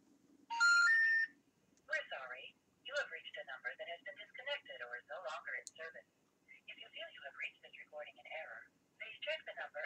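A phone call to a number: a bright burst of dialing tones opens, then a recorded voice speaks in choppy phrases, as if through a telephone line, against near silence.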